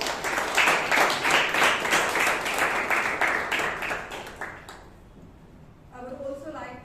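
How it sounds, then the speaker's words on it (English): Toastmasters meeting audience in Bangalore applauding with dense, steady clapping for about five seconds, fading out before a voice begins speaking near the end. "Let's give it a huge round of applause."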